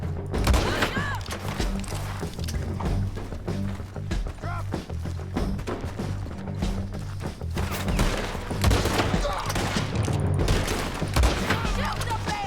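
Rapid gunfire bursts in Red Dead Redemption 2, repeated shots and thuds in a dense, continuous fusillade, with shouted voices mixed in throughout.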